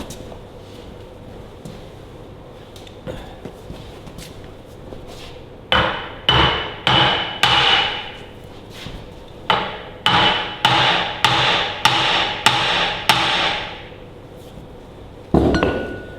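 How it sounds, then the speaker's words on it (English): Repeated dull soft-hammer blows on an old engine part, struck in quick bursts of several hits with pauses between, close and fairly loud against a quiet workshop. "I might give it a crack with a soft hammer."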